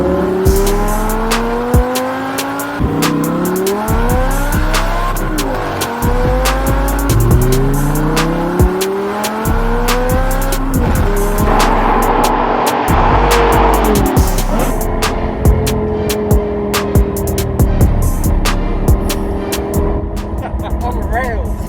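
Audi R8 GT V10 with a Milltek race exhaust accelerating hard, its engine note climbing through repeated rising sweeps between shifts, loud and close, with brief tire squeal.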